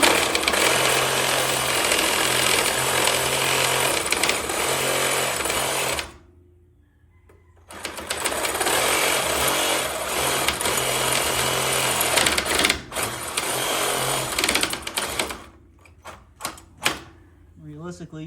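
Power tool hammering and chiseling out a worn track bar bushing on a 2017 Super Duty truck, loud, continuous rattling bursts that stop for a couple of seconds, resume, then break into shorter blasts near the end.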